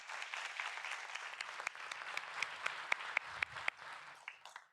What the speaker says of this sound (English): Please give him a round of applause and welcome him to City Council.